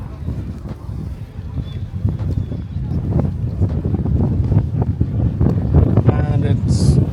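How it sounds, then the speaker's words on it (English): Strong gusts at a racetrack buffet the microphone with a heavy, continuous rumble that builds over several seconds, masking a faint voice underneath. "And it's really breezy. I really doubt you guys will be able to hear me."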